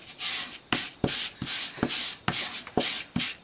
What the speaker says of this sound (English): I'm going to rub it a little bit harder